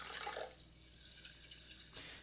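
Water sloshes and swirls faintly in a sprouting container holding broccoli seeds, a soft, brief liquid swish with a small splash near the start and end.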